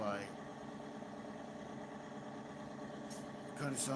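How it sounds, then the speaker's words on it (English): Tractor engine in Farming Simulator 2019 runs at a steady idle throughout, with a continuous mid-pitched drone and some higher whine near the end. "Listen to that motor."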